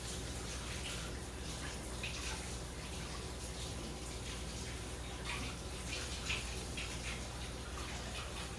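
Water runs steadily from a kitchen tap while hands are rinsed under it during coleslaw preparation, a constant close hiss and splash with no break.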